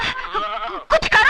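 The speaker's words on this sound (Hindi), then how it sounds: "बकरी" A goat in a Bollywood comedy scene gives a long wavering bleat, followed by a short burst of loud, close voices or bleats.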